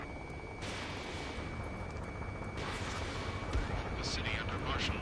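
Gunfire in the Ace Combat 7 video game, a dense continuous roar of distant shots and rumbling blasts through a city under martial law, with jet roar beneath.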